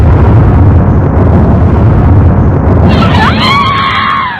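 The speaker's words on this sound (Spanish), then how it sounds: "una llamarada de fuego verde explotó" A loud, continuous roar like a magical blast of green fire bursting with a cannon-like boom, sustained throughout with a hissing, crackling rise near the end.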